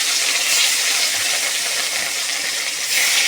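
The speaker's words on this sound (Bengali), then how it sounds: "মাছ ভাজা বসাই দিই, তেল গরম হয়ে গেছে।" Local rohu fish pieces sizzle in hot oil in a Bengali home kitchen, a loud continuous hissing fry that stays steady throughout with no talk over it.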